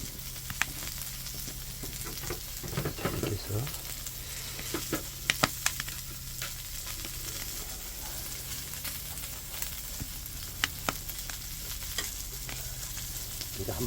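Pork belly sizzles on a cauldron lid over a strong brazier beneath a rural eave, a steady close crackle of fat with scattered sharp pops and spatters.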